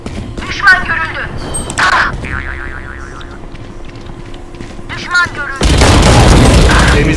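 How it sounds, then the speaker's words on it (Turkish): Gunfire in the first-person shooter Valorant, with several sharp booming shots and cracks scattered across the stretch, then a dense burst of loud firing near the end. "Ben vurdum."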